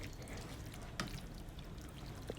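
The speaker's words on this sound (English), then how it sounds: "I'm going to add a little water to this jar and get every drop in." Water poured into a jar of savory herb marinara sauce to rinse it out, a faint soft trickling wash with a small clink partway through, quiet and with no talk.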